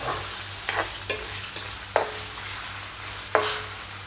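Tofu frying in hot oil for a vegetarian Thai khanom jeen nam ngiao, a steady soft sizzle broken by several sharp clinks and scrapes of a utensil stirring in the pan, close and fairly quiet, no voices.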